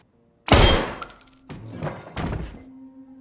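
A single loud, close gunshot in a film, a sharp blast followed by two further heavy thuds with a brief decaying ring, standing alone without voices.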